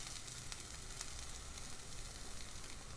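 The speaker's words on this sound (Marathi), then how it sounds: "आता काजूची पेस्ट घालूया." Cashew paste hitting a tomato gravy that is frying in oil, giving a steady, dense sizzle that holds at an even level throughout without a break.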